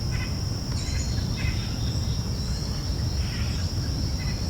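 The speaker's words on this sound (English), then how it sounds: "These are the voices of the Amazon's birds, a chorus so loud, it can be heard miles away." A steady wash of insect buzzing and cricket trills fills a dense Amazon rainforest ambience, with scattered faint bird chirps and calls coming and going.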